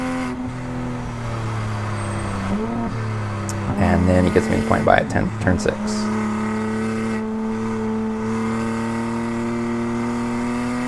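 A Toyota Supra lapping Ridge Motorsports Park hums with a steady engine drone from inside the cabin, rising into a brief burst of revving and gear changes through a corner, while the driver talks over it.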